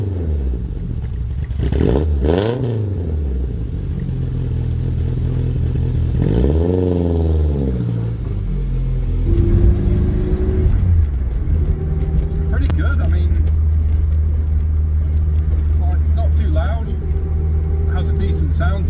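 A car engine fitted with a new homemade welded exhaust starts up and revs, with loud, rising and falling rumbling sweeps before settling into a steady, throaty idle.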